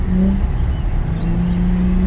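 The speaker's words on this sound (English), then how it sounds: "Second gear going nowhere. I have revs, You have revs." A Holden VY Calais car engine revving in second gear, a loud steady drone with a sustained low tone that holds its pitch throughout, close and continuous with no talk.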